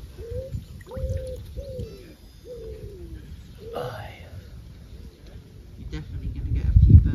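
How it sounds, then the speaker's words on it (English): Pigeons or doves coo nearby in a short run of about four repeated low calls, heard under quiet voices and outdoor noise. "You're definitely going to get a few birds now."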